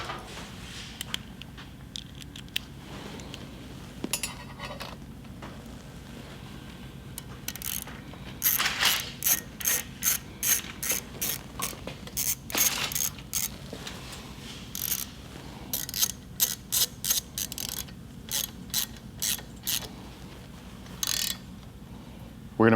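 A socket ratchet threads a nut onto a Harley-Davidson M8 bagger exhaust, with repeated runs of crisp metallic clicks in short bursts separated by brief pauses, close and without talk.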